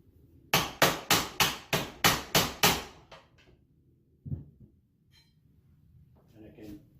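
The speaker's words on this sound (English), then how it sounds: "And I can tap it in the rest of the way." A BallistiShield door panel being tapped into place by hand, eight sharp evenly spaced close knocks in quick succession, then a couple of softer scattered taps.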